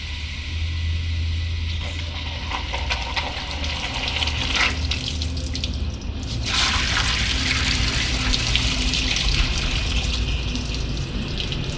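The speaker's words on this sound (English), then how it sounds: "someone at the other end is spraying water into the tube." Water sprays with a steady, loud hiss into a leaking boiler tube, echoing inside the hollow metal tube, broken by a few brief knocks.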